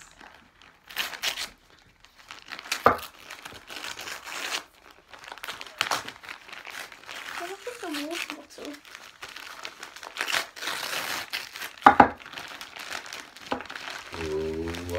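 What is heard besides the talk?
unwrapping paper from a gift box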